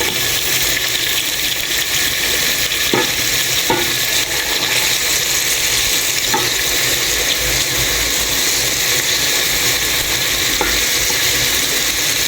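Garlic and onion sautéing in a pan, a continuous bright sizzle and hiss at an even level throughout, with a few faint clinks of stirring.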